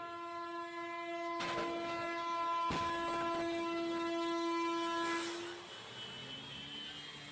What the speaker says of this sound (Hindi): और देखिए आप लगातार हॉर्न भी सुन रहे हैं।